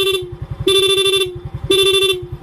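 The stock horn on a Mio i 125 motorcycle, fitted with a rapid relay, blares in three loud bursts, each made of fast stuttering pulses, with brief gaps between them.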